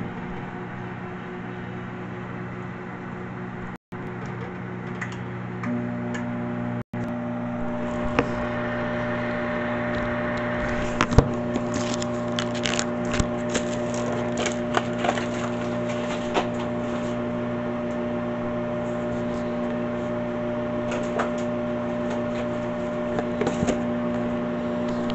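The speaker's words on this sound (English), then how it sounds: "just a cup in the microwave for 2 minutes" A microwave oven hums steadily for a long stretch, heating a cup for two minutes, with a constant low drone and scattered faint crackles and ticks building up over time.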